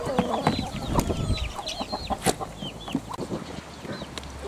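Chickens cluck on a suburban allotment near a duck run with goats close by, a run of short, fairly close calls and bird chirps scattered over soft background noise, with no talk.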